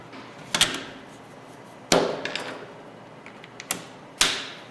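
An MP5 fitted with a Simunition conversion kit has its bolt carrier and butt stock reinstalled: four sharp metallic clacks and snaps spaced a second or so apart, with small rattles between, close and clear.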